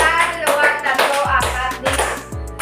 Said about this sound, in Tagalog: Bigyan ng palakpak ang lahat.